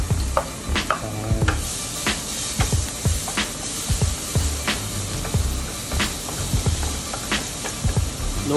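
Garlic frying in oil in a pan over low heat, a soft continuous sizzle broken by regular scraping and stirring strokes of a utensil against the pan, heard close with no voices.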